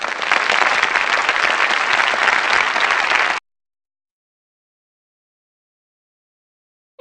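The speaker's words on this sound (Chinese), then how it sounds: "开始了，掌声呢？" Loud, dense applause from an audience at a Mid-Autumn Festival poetry recital, a steady burst of many hands lasting about three seconds before stopping abruptly into silence.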